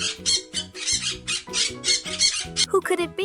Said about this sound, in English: Yes, that's right. It's a parrot.